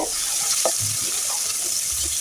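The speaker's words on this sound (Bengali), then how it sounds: "এখন হলুদ লবণ মরিচ মেখে মাছটাকে হালকা করে ভেজে নেব" Fish pieces coated in turmeric, salt and chili fry gently in a pan, a soft continuous sizzle with a few faint clinks and stirring sounds, no talking.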